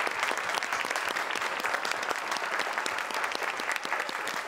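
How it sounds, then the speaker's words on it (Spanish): A crowd applauds to honor a colleague named creative of the year, a dense, even patter of many hands clapping continuously for several seconds at moderate distance. "Aplausos, por favor."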